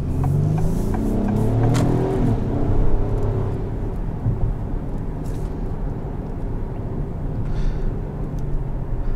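A 2022 Acura MDX SUV with a VTEC engine accelerates on a test drive, giving a steady, loud low rumble of engine and road noise that swells slightly midway and holds without speech.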